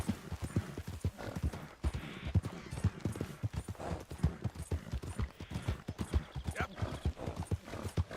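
Rhythmic clip-clop of horse hooves trotting steadily at close range in the video game Red Dead Redemption 2, with a faint whinny and some mechanical clinks in the background.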